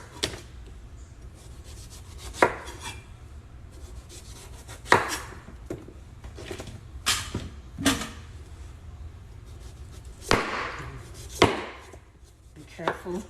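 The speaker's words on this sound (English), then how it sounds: "So just keep peeling." Squash skin being peeled with a knife in a home kitchen, heard as scattered scraping strokes and sharp knife-on-board taps spaced a second or two apart, close and fairly quiet, with no talking.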